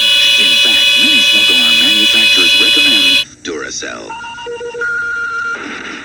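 A smoke alarm in a Duracell battery commercial shrills with a loud, steady high-pitched tone, then cuts out into a quieter stretch of shorter beeping tones.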